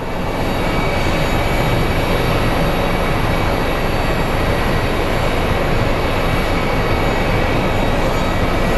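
American Airlines flight 1756, an airliner arriving from Minneapolis at Phoenix Sky Harbor International Airport, roars steadily and loudly with a broad, continuous engine rumble throughout and no one speaking.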